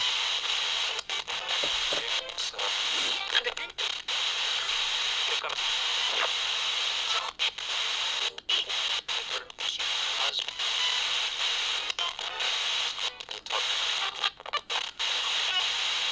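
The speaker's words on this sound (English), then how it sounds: "a noise gate may control the white noise a little bit" Steady white-noise static hisses continuously from a Radio Shack 12-470 spirit box radio, broken by brief dropouts and crackles as the signal sweeps.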